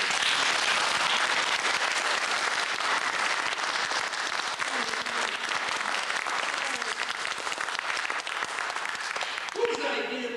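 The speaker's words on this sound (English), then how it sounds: "One more round of applause for him." Sustained audience applause from a live studio crowd, dense steady clapping that carries at full strength for about ten seconds before thinning at the very end.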